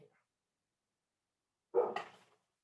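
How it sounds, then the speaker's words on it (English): A dog gives a single short bark indoors, fairly close, after near silence, then quiet follows. "where's my dog barking"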